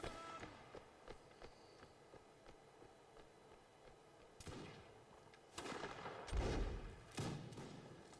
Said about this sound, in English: As you can see, more fire coming in.